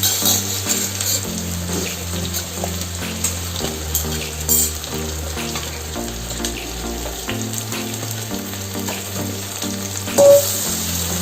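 Chopped onions with crushed ginger and garlic sautéing in hot oil for a Kerala-style lunch, a loud continuous sizzle and crackle with occasional stirring scrapes, close by and without speech.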